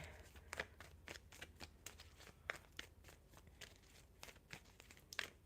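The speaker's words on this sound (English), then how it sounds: "We'll shuffle just a little bit and see what's bringing this different paths energy." Tarot cards are shuffled by hand in a quiet room, a steady run of soft crisp riffles and slaps with occasional sharper snaps, close to the mic.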